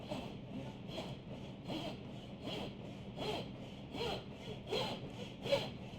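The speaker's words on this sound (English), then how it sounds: "Saw through, we're going to lower the heel of the saw" A hacksaw cuts through metal in long, steady back-and-forth strokes, about nine even rasping passes in six seconds, close and moderately loud with no talking.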